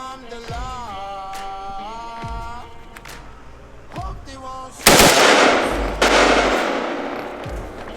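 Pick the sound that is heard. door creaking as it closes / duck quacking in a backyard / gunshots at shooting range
gunshots at shooting range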